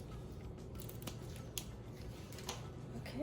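Scissors cut through a Velcro strip in a few soft, close snips and crunches, quiet and alone.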